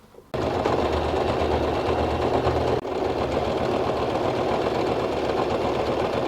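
A sewing machine stitches tape onto a bag made from recycled jeans, running in a steady, rapid mechanical chatter with one brief hitch partway through, close and continuous with no talk.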